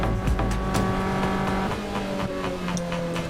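A Lotus Elise racing among Ginetta race cars in a roadsports race at Silverstone, engine roaring loudly up close with rising and shifting tones, another car's sound briefly mixing in as it is passed.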